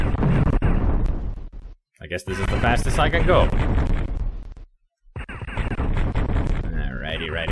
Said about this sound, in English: Boom, boom, boom. Explosions, death, and giblets.